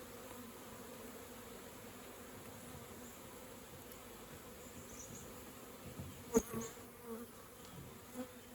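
Honeybees buzz around swarm trap hives in a soft, steady outdoor drone, with a few louder bees passing close near the end.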